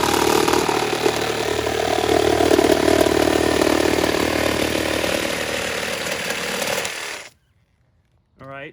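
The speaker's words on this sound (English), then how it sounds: "Now I'm going to do a test cut here." Makita 36-volt cordless reciprocating saw cutting through wood with embedded nails, a loud, steady buzzing roar that runs for about seven seconds and then cuts off abruptly, followed by a short faint chirp.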